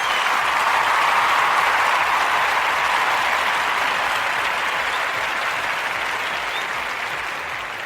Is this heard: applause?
yes